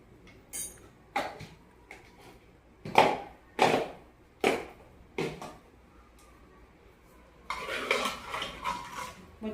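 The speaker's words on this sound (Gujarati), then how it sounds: "બધું મિશ્રણ હલાવી લઈએ." A spoon knocking and scraping in a pot of spices for sambhar, with salt, Kashmiri red chilli and turmeric, gives several sharp separate clinks and then a longer spell of clattering near the end, close by with no talk.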